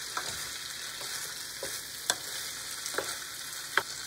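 Beef and tilapia fry in a pan with a faint, steady sizzle, broken by scattered scrapes and taps as the mixture is stirred; quiet and close, with no voices.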